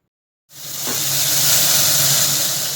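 Ginger, cumin and green chili paste hitting hot tempering oil for a vegetarian doi potol curry, bursting into a loud, steady sizzle and steam hiss that starts abruptly after a brief silence and holds close and unbroken.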